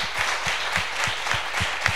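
Audience applause at a science fair closing ceremony, steady rhythmic clapping from a crowd filling the room with no talk over it.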